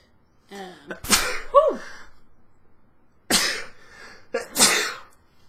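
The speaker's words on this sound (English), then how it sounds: "Bonus content is me sneezing a whole lot." Several sharp sneezes burst out close to the mic, the first preceded by a quick inhale, then two more after a pause, with a brief voiced sound between.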